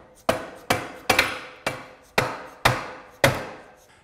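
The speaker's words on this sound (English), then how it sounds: "take the drive side crank arm, pass the axle through the BB and we're just going to tap it through." A mountain bike's drive-side crank arm axle, greased, is tapped through the bottom bracket with seven sharp, evenly spaced knocks, each a close, solid hit that rings briefly before the next.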